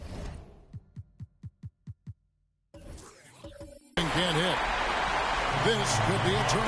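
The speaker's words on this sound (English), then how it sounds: "the emotions of these fans right now boiling over after that shot" Crowd noise from an NBA 2K22 Toronto Raptors versus Brooklyn Nets game swells into a loud, continuous roar of cheering after a run of rhythmic ball bounces, with commentary over it.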